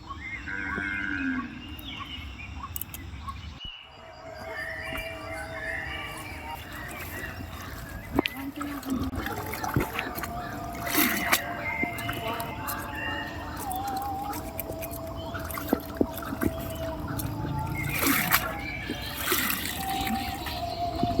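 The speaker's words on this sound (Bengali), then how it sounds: "মাছটা কাটা হয়ে গেছে আর খুব ভালো করে ধুয়ে নেব" Cut sole fish being washed in water, with irregular splashing, trickling and handling sounds close by against a busy rural background, continuing throughout.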